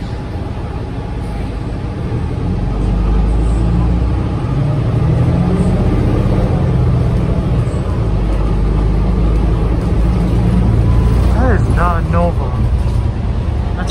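Interior of a Nova bus on Honolulu route E, a steady low engine drone and road rumble that swells as the bus accelerates, with faint squeaks and rattles near the end.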